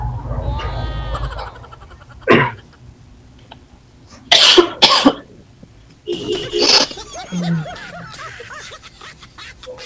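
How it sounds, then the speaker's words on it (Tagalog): A person coughs in several separate harsh bursts, spaced a second or two apart, with brief throaty voiced sounds between them. "Ubo na nga ako ng ubo dito."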